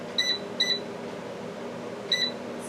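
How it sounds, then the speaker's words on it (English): Air fryer control panel beeping as it is set, three short high electronic beeps spaced apart over a low steady hum. "I'm going to turn the air fryer on."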